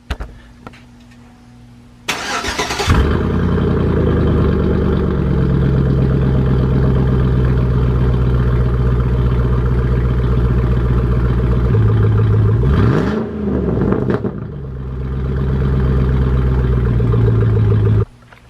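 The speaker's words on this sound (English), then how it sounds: "So I'm gonna start the truck up for y'all." A Chevy truck with a 4.8/5.3 V8, fresh spark plugs and wires, cranks and catches with a loud start, then settles into a steady, close idle that briefly dips and recovers near the end, outdoors in Florida heat.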